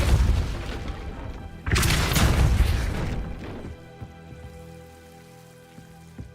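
A Depulso force spell is cast in the Hogwarts Legacy video game, giving a sudden loud whooshing boom that rushes for about two seconds over a noisy rumbling game backdrop, then fades to a quieter hum with faint ticks.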